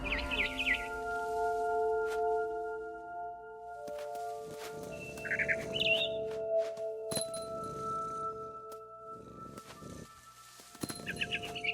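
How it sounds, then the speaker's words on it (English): Barn swallow chirps in the video game What Remains of Edith Finch, brief high twittering bursts scattered among tonal game sounds, sustained hums and soft thuds, with no voices. "I heard chirping outside my window. It was a barn swallow going back to her nest"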